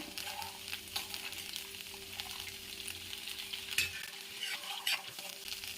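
Milk cream simmers down into ghee in a pan with a soft, continuous bubbling crackle. Faint stirring and scraping rise now and then above it, and nobody speaks.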